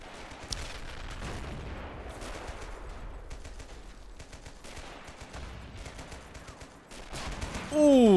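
Distant artillery shells land and gunfire pops steadily in a video game battle for a French citadel stronghold, faint rolling booms and crackling shots under low voices, ending in a sudden louder whooshing burst.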